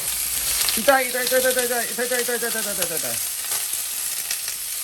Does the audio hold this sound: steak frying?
yes